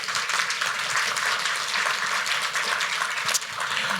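A large conference audience applauds in a dense, steady wash of clapping that holds for several seconds without letting up.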